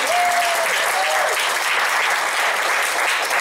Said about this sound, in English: give a round of applause for the Dumb Squad cast.